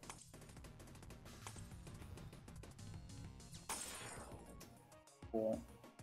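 Glass shatters in a video game, a sharp crash near the end of a busy stretch of game sound and music, with an earlier burst of noisy impact as well.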